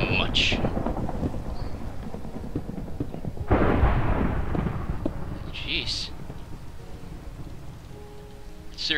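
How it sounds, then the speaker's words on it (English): Thunderstorm in a video game: steady rain hiss throughout with a loud thunder crack near the middle, rumbling on afterward, under intermittent game sounds and a brief spoken exclamation. "this is like the 3rd rainy thunderstorm we've had in the last, like, 2 day-night cycles"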